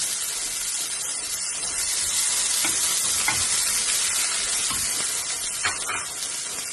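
Chopped onion frying in a pan makes a steady, close hissing sizzle throughout, with faint stirring clatter rising here and there.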